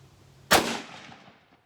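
A single rifle shot from an M.24/47 Yugoslav Mauser firing PPU 8x57 ammunition outdoors, a sharp loud crack followed by a rolling echo that fades over about a second, with no talk.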